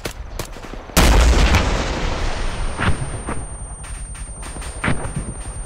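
An artillery launcher firing in the ArmA 3 military video game, one heavy booming blast near the start that rolls off into a long rumbling echo, followed by fainter distant cracks and pops.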